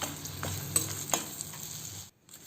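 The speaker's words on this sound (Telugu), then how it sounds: "దీన్ని ఆయిల్లో ఫ్రై చేసేసుకుందాం" A crushed black pepper mix fries in oil for pepper rice, a close, continuous sizzle with several spoon scrapes as it is stirred, before cutting to near silence at the end.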